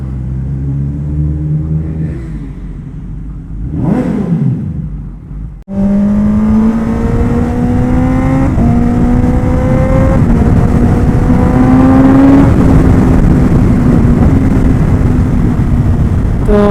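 A Kawasaki ZX-10R motorcycle pushed past 200 km/h. A vehicle whooshes past early on, then the engine suddenly roars loud and close, holding a high, strained whine that climbs through the gears amid heavy wind rush.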